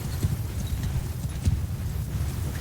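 Horse hooves of a horse archer's mount galloping in Mount & Blade 2 Bannerlord, a steady rapid clip-clop drumming close and loud across a battle scene, with no talk over it.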